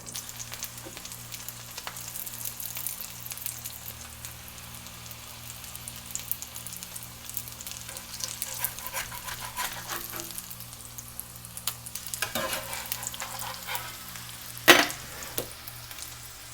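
Birria taco meat and cheese frying in a skillet, a steady close sizzle with soft crackles and a brief louder pop near the end, no talking.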